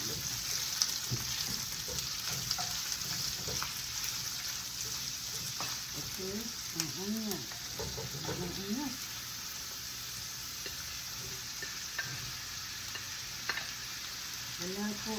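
Ham fries in a pan with chili red powder, giving a steady sizzle broken by stirring scrapes and bubbling, with a voice speaking briefly partway through.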